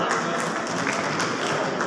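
Loud, dense applause from a crowd welcoming guests at a bar association swearing-in ceremony, continuous and even for the whole stretch with no talk standing out.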